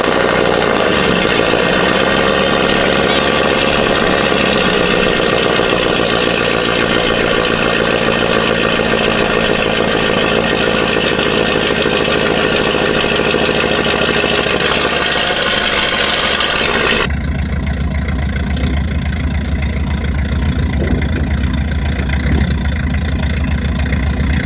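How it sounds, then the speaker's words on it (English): A truck engine fitted with a new camshaft, recently rebuilt after blowing up, idles loud and steady on its first start in three months, with a rough, lopey rumble that shifts to a deeper tone partway through. "It's the first time I've heard it run in 3 months with the cam"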